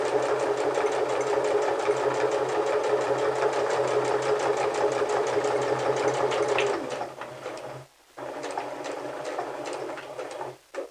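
A sewing machine runs a back stitch on a DIY clutch purse, a steady rapid mechanical chatter close by that slows and stops, then restarts briefly after a short gap, with no voices.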